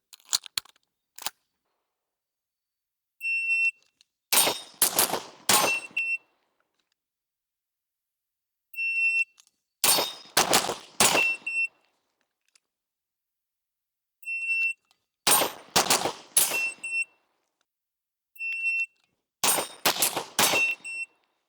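Gunshots strike a steel popper target during a transition shooting drill, coming in repeated quick bursts of sharp cracks with ringing metallic clangs, separated by pauses of silence over several reps.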